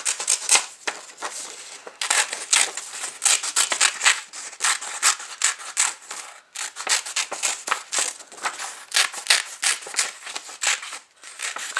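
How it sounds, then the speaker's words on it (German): Scissors cut a spiral out of an old book page in quick, uneven bursts of crisp snipping and paper rustle, close up and without talking. "fangt einfach irgendwo an zu schneiden"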